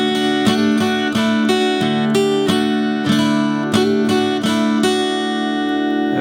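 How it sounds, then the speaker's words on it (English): A song's pre-chorus lick on guitar, downstroke-driven, in a steady run of bright, ringing strummed and picked notes, close and loud, with no voice over it. "Okay, now let's jump into the pre-chorus lick."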